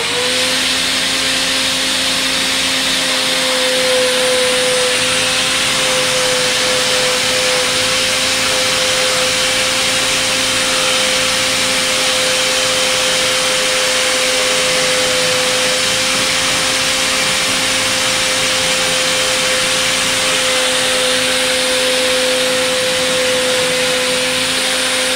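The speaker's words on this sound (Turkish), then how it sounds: "Ağır çornamız olmadığı için matkabı bu şekilde ağır çornaya çevirdik." A steady, loud motorized whine drones without pause, a drill rigged as a lathe spinning against a sanding disc on a wooden toy truck wheel, close up and continuous.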